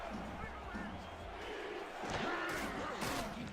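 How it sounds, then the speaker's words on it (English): A stadium crowd at a football conference semifinal chants defense on third down, a loud roaring swell that builds in the second half, with a voice heard amid it. "this ConPro crowd taking up a chant of defense."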